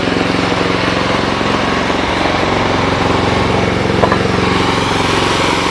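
A Bolens 1050 garden tractor engine runs close by, a loud, steady, rough idle-like chug with a dense mechanical rattle, holding constant throughout with no talking.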